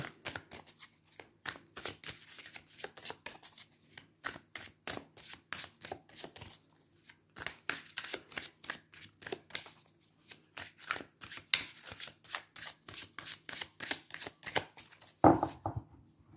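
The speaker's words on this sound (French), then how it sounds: "je pioche les 3 cartes de ce que le tarot a à vous dire" Tarot cards shuffled and drawn by hand, a long run of soft, rapid riffling and slapping card sounds in a quiet room, close and steady, with a brief sharper handling noise near the end.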